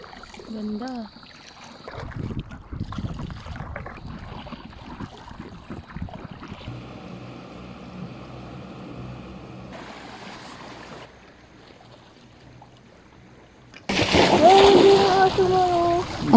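A small boat moves across calm mangrove water in Siargao, with soft intermittent splashing and the low hum of the ride, then a louder burst of water noise near the end; voices can be heard over it.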